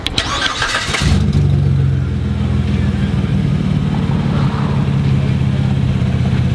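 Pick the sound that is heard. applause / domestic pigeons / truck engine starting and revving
truck engine starting and revving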